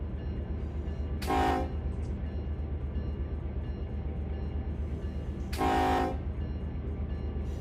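Two short train horn toots from a locomotive sounding for a whistle post in Run 8 Train Simulator, evenly spaced a few seconds apart over a steady low engine rumble, with no talking.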